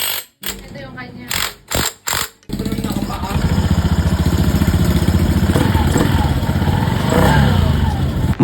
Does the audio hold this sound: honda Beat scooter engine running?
yes